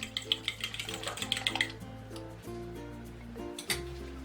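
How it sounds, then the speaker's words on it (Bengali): A fork whisks eggs and milk in a bowl, making quick, light rhythmic clicks for the first second and a half, then fading, under soft background music. "একটা কাটা চামচ দিয়ে খুব ভালো করে আমি ডিমটা ফেটিয়ে নিচ্ছি"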